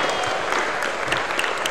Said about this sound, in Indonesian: Beri tepuk tangan buat Seratan.